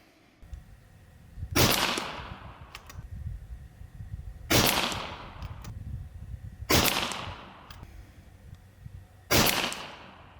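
Four sharp shots from an FX DRS .25 caliber air rifle ring out a few seconds apart, each a crisp crack with a short tail, over faint outdoor background.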